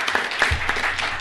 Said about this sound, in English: So anyways, a little round of applause.